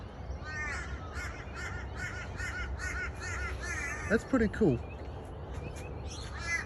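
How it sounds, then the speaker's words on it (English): Several birds call repeatedly in the background at dawn in Australia, including a run of harsh caws, while a person speaks briefly nearby. "The birds are already making a noise."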